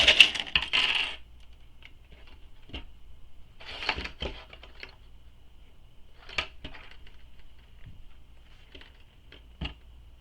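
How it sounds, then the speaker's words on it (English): Sewing clips snap onto fabric while pinning pieces of a quiver sling in place, giving sharp plastic clicks, a quick cluster at the start, another around four seconds, then scattered single snaps in a quiet room. "So we're clipping everything in place, keeping it nice and precise."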